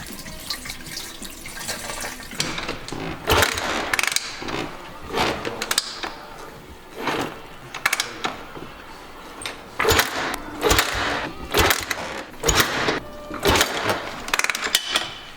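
Someone tries again and again to kick-start a Honda XR motorcycle that won't start and has no fuel, giving a run of roughly a dozen short mechanical bursts that turn over but never catch.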